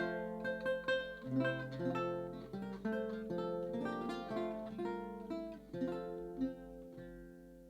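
John Dowland's John Smith's Almain is played on a plucked lute with every chord spread, a steady stream of rolled, arpeggiated notes ringing close and clear with no talking.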